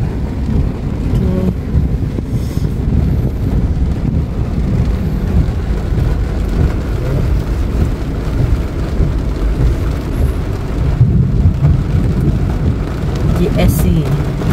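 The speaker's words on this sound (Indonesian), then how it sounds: "Sudah lama lah hujan sini." Heavy rain pours on a car driving in slow traffic near Suria Sabah in Kota Kinabalu, with a dense, constant rumble of rain and low thunder heard from inside the vehicle.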